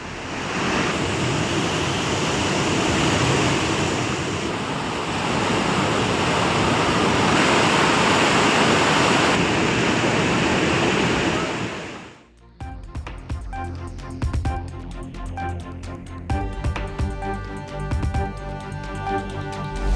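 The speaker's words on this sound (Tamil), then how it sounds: "உடுமலை அருகே உள்ள பஞ்சலிங்க அருவியில் கடும் வெள்ளப்பெருக்கு" The flooding Panchalinga waterfall near Udumalai roars as a dense, loud, continuous rush of water for about twelve seconds before it cuts off abruptly and music takes over.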